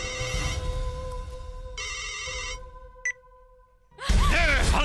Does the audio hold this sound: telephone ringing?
yes